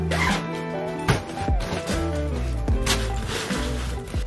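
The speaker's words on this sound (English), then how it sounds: "The zipper just snapped in half." A zipper on a bag or packing cube in a dorm room is tugged in a series of sharp rasping pulls, close and loud over a steady background hum.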